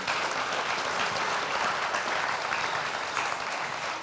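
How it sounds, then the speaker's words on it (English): Church congregation applauding, a dense steady wash of many hands clapping at moderate distance, sustained evenly without pause. "That applause."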